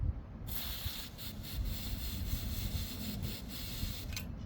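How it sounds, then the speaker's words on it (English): A continuous close hiss of a carburetor cleaner aerosol spray can during a Polaris Slingshot tune-up, steady for several seconds with a few small bursts, no voices. "This can right here contains carburetor cleaner, and we're gonna spray it first."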